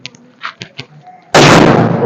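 A sudden, loud blast bursts in after a few brief faint sounds, then a dense roar that carries on to the end, a large Diwali firecracker bomb going off nearby in Odisha.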